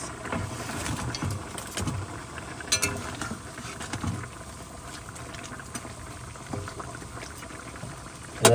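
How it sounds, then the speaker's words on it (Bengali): Fish curry gravy boiling in a pan with fried fish, a continuous low bubbling and simmering texture with faint stirring and a few light knocks, close and fairly quiet, with no talking. "তরকারির ঝোল ফুটে গেছে, এইবার দিয়ে দেবো ভাজা মাছ"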